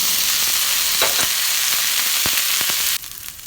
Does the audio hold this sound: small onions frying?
yes